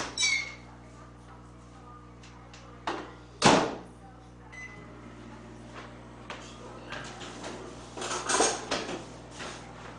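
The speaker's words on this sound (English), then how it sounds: "You want to be careful when you're melting it in the microwave." A microwave oven melts butter with a steady low hum running underneath, while scattered clinks and clatter of kitchen dishes break in, one louder clank near the middle.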